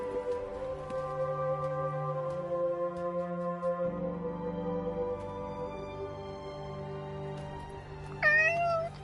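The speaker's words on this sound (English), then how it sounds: "Hey, that cat." Near the end, a cat in the video game Forspoken lets out a short, clear meow over soft, sustained game music.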